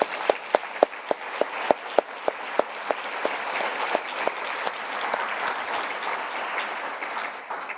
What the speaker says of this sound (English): So maybe we should first start with giving you both a round of applause.